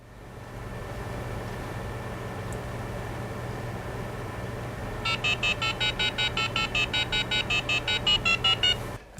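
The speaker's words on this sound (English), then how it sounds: "When I press enter, it starts dialing." A Westermo industrial phone modem dials a number: a low steady hum and faint hiss give way to a rapid run of about twenty clipped DTMF tone beeps in even rhythm, clear and close, with no voices.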